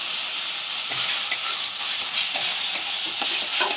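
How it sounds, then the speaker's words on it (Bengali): Ginger and garlic fry in a pan with a steady, close sizzling hiss and faint scraping stirs, fairly loud and continuous, with no talking. "আমাদের আদা রসুনটা কষে গেছে"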